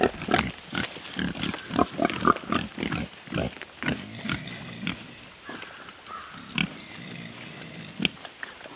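Pigs grunting and snorting nearby in a busy, irregular series of short bursts, with some squeals mixed in.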